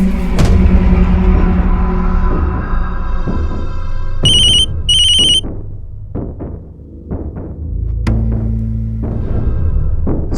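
A telephone rings in two short, high electronic bursts over a loud background of dramatic music and thuds in a police crime drama scene.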